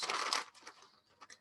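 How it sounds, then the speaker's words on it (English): Scissors cut a paper strip for a journal, a short crisp crinkling snip up front followed by a few quieter rustles and clicks, close by and alone. "So let me go ahead and cut the next strip."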